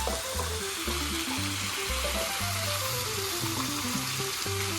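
Vegetables for pasta primavera stirred in a hot frying pan, a loud continuous sizzle with repeated scraping strokes of the utensil and a soft music bed underneath.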